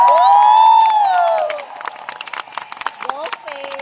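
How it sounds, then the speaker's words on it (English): Audience at a motivational talk welcoming a Filipino speaker: a long, loud rising cheer opens, then fades into scattered, uneven clapping and softer crowd noise. "Once you hear this kind of applause, this kind of cheer"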